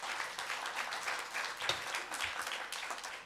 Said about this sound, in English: Please hold your applause till the end of the public hearing.